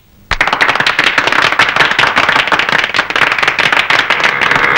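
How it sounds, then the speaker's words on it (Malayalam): A large audience claps on request at a gathering, bursting into sudden, loud, dense applause that holds steady and close for several seconds. "ഇത് എല്ലാവരും ഒന്ന് കൈയടിക്കണം. കൈയടിക്കണം."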